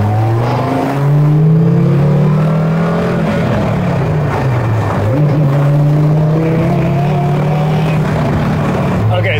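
A Donkervoort D8 GTO 40 accelerating hard with its engine roaring loud and close, the pitch climbing, easing and rising again as the tires spin under power.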